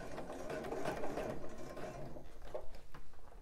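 A sewing machine runs a regular straight stitch through elastic on a bra band, its rapid mechanical whirring loud and close, slowing into shorter, uneven bursts toward the end.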